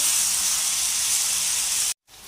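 Vegetables and pasta frying together in a hot pan, a steady loud sizzling hiss that cuts off abruptly near the end.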